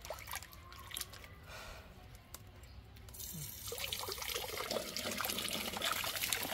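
Running water trickles and splashes as chicken pieces are rinsed, starting soft and intermittent, then swelling into a louder, continuous close-up flow.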